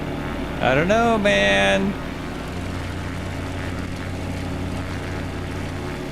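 A Carenado C172 in a flight simulator game holds a steady, low engine drone throughout, with someone briefly talking over it near the start.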